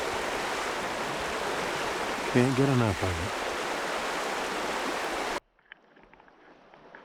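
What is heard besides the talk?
flowing river in Alaska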